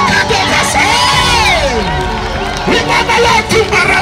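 A church congregation cheers and acclaims God, with loud overlapping shouts, whoops and rising voices forming a dense, sustained roar of excited praise close by.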